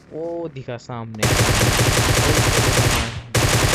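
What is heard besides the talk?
gunfire in the video game BGMI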